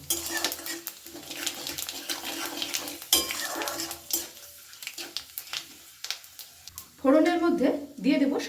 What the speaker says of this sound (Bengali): এবার আমি দিয়ে দেব তেজপাতা শুকনো লঙ্কা দেব পাঁচ ফোড়ন ভালো করে একটি ফোড়নটা নেড়ে নেবো